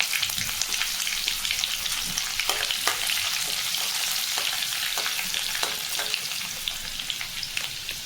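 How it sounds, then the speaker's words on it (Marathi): Garlic and curry leaves sizzling in hot tempering oil with crackled cumin and mustard seeds, a continuous close frying hiss with small pops and stirring clicks, no talk. "छानपैकी फोडणी करूया आपण."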